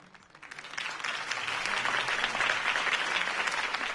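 Crowd applause follows a campaign speech in the Batman Telltale video game, a dense wash of clapping that swells within the first second and stays loud and steady to the end.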